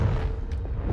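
A Confringo blasting spell explodes in a Harry Potter video game: one short, heavy, low boom that fills the whole second with rumbling blast noise.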